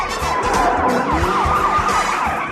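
Police car siren wailing through a movie chase scene, with a rising and falling tone repeating over steady engine rumble and dense action-film sound, loud and continuous throughout.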